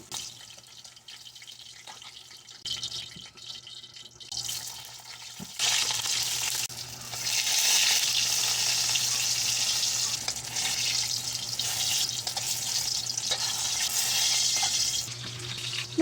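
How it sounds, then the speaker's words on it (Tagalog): Okra and eggplant frying in a wok-style pan, a steady hiss of oil that starts quiet and swells louder partway through, with occasional stirring clatter and no talk. "kumuha naman ako ng panibagong kawali para dito ko naman prituhin yung mga gulay na okra at talong"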